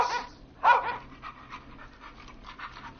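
A video game dog whimpers and pants in short, soft bursts, one louder whine early and fainter breathy whimpers after.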